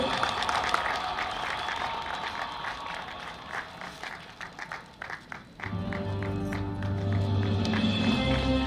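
An audience claps at an award ceremony honouring community workers, a dense steady round of applause that thins briefly before a hum and a voice over a sound system take over.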